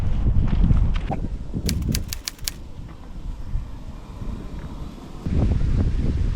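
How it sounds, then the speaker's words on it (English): Gusty wind in a canyon near Moab, Utah buffets the microphone in rough low rumbles that rise and fall, with brief faint clicking partway through. "it's getting really windy"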